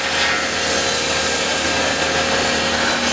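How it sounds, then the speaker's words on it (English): Timber-cutting machine sawing wood into three pieces at a timber processing yard in Douala, Cameroon, a loud continuous grinding whine that stays steady and close throughout with no talk. "this is the machine that does the cutting, and this just cuts the wood into 3."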